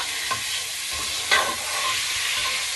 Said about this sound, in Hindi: अब टमाटर डालें